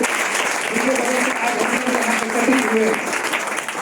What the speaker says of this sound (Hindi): एक बार जोरदार ताली बजाएंगे